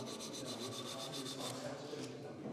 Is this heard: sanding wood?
yes